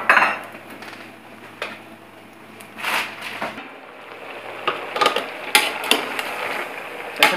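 Dried fish (shutki) frying in a pan is stirred with a metal utensil, giving a series of sharp scraping clinks and knocks against the pan over a low sizzle, close and with no talking.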